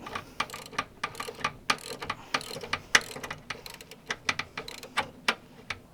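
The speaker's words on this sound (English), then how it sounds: "the last nut removed" A ratchet wrench loosens a tight brake line nut on a Subaru Impreza, making close, rapid bursts of metallic clicking in an uneven rhythm with short pauses between strokes.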